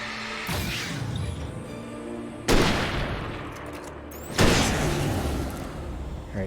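Two heavy gunshots ring out in the Alan Wake video game, each a sharp loud crack with a long rumbling tail, spaced about two seconds apart over a dark, droning ambient background.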